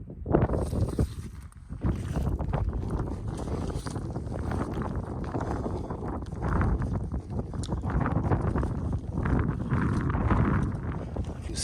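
Cold wind buffets the microphone on a Lake District ridge walk from Grasmere toward Patterdale, a loud continuous rumbling roar with gusty swells and no let-up.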